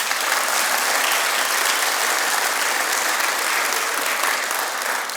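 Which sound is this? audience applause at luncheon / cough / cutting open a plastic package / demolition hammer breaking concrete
audience applause at luncheon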